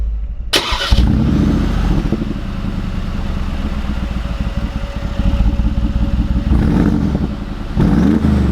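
Armored Mercedes-AMG G63 G Wagon engine cranking and firing up with a sharp burst, then settling into a deep, rumbling idle, loud and close.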